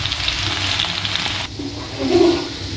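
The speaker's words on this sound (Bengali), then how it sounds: "রসুনগুলো দিয়ে দিলাম, ব্রাউন করে ভেজে নিব" Garlic cloves drop into hot soybean oil and fry in a steady, close sizzle that briefly swells louder near the end.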